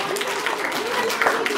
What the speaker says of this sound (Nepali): उहाँलाई पनि फेरि ताली बजाएर सम्मान गर्नु।